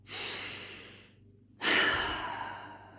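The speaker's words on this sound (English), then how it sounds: "take a deep breath with me" A deep breath taken close to the microphone: a long airy inhale, a brief pause of near silence, then a stronger sighing exhale that slowly fades.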